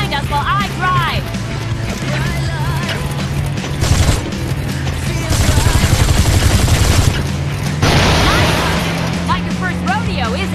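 Continuous gunfire and mechanical rattling during a car chase shootout in the Gangstar Vegas video game, dense and loud under a steady engine drone, with a game voice talking at the start.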